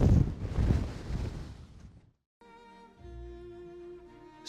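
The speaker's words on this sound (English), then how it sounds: "The wind is crushing" Strong night wind on La Palma gusts loudly across the microphone in rough, roaring bursts, then drops out abruptly before a quieter stretch with a steady tonal hum.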